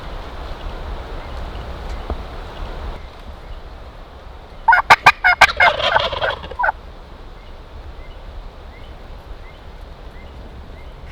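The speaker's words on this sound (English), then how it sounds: "Strutting turkey?" Wild turkeys gobbling during a spring hunt in North Carolina, a loud rattling burst of gobbles close by, lasting a couple of seconds amid quiet outdoor ambience.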